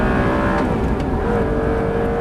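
An Audi R8 sports car engine roars steadily under full-throttle acceleration, loud and close, with a constant droning pitch and no voices.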